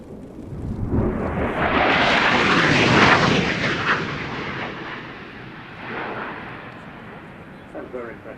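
A MiG-29 fighter jet flies past at high speed on dry power, a loud tearing roar that builds within a second and then slowly recedes, with a weaker rumble returning near the end.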